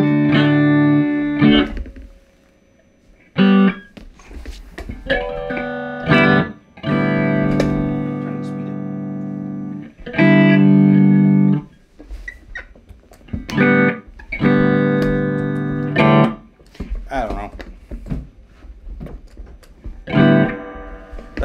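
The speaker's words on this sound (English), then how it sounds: "Now we've got the vibrato in it that we have not heard, and the vibrato sounds pretty good." Electric guitar played through a pedal board into a Fender Twin Reverb amp with vibrato on, loud sustained chords and phrases with pauses between them, wavering tone and roomy tail.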